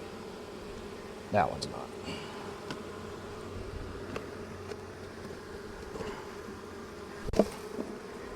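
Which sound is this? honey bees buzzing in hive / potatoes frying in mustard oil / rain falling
honey bees buzzing in hive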